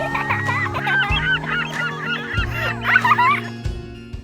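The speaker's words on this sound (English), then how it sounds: "and birds chirping and squawking" Birds in a zoo squawk and honk in a busy, goose-like chorus, with calls overlapping near and loud over a low steady hum.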